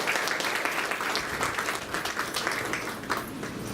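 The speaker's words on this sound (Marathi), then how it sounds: "आपण सर्वजण एकदा या सर्वांचं टाळ्या वाजवून" An audience at a Rotary gathering claps for colleagues, steady, full applause from many hands filling the room at moderate loudness, easing slightly near the end.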